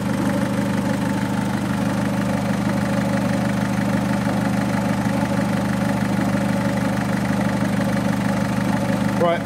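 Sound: Citroen 1.6 HDi diesel engine idling

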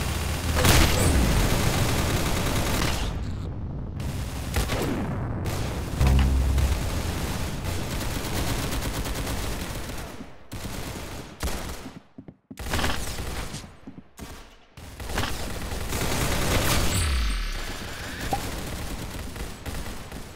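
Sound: gunfire and explosions in the Roblox video game Arsenal

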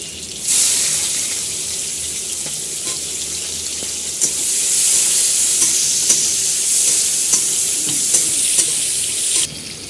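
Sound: onions and whole spices frying in hot oil

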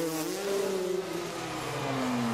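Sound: freestyle motocross bike engine revving

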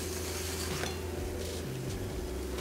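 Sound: omelette being plated, pan and utensils handled

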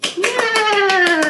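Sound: hands clapping

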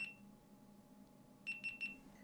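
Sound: action camera stop recording beep

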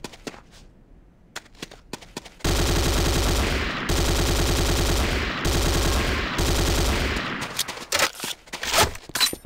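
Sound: Corbretti AR-70 Raptor automatic rifle firing, Command & Conquer Renegade video game

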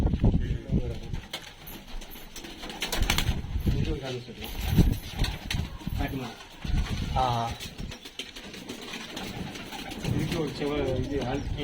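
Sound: pigeons cooing in a cage

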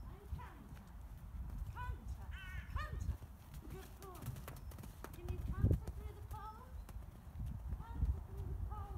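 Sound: horse cantering on the lunge

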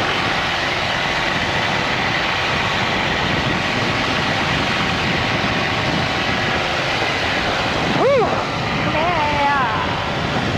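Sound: stunt plane engine while taxiing

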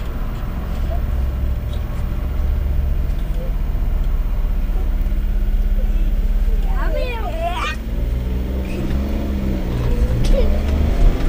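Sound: car driving

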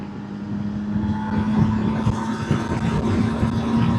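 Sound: bus passing on the road

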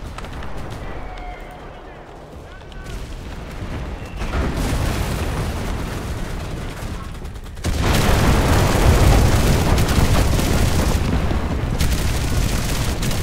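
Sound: bomb explosions in the video game Enlisted

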